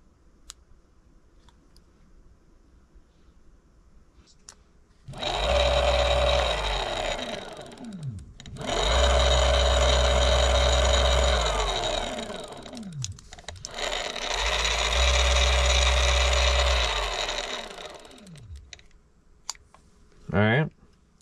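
A Bafang BBSHD e-bike mid-drive motor whirs up three times in long bursts of several seconds each, a steady loud hum with rising and falling pitch, separated by quieter pauses and some light clicking.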